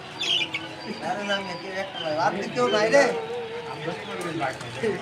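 Birds at a bird farm, with a mix of close cooing, squawks and chirps running throughout while a person talks over them.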